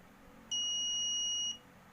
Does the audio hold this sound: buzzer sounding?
yes